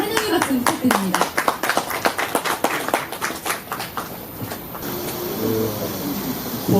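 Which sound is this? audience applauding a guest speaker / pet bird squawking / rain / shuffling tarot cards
audience applauding a guest speaker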